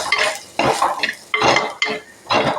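Spices with coriander powder and chilli are stirred in coconut oil in a pan: loud, rhythmic scraping and clattering strokes repeat about five times, close up and with no voices.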